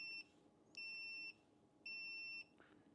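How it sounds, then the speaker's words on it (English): A dehumidifier's locator function emits thin, high electronic beeping in two sustained tones, each held about half a second, repeating with short pauses in a quiet room. "you can make the unit beep at you."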